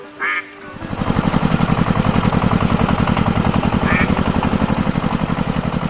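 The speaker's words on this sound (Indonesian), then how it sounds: "Traktor merah mulai bergerak, mengangkat kaki-kaki di tanah yang lembut. Suara mesinnya menggema" A red tractor engine starts up after a brief quack-like squeak, then settles into a loud, rapid, pulsing chug that runs steadily to the end.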